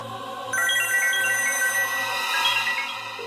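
A phone ringtone starts after a brief pause and plays as a loud, bright electronic melody. It repeats steadily without any voice over it.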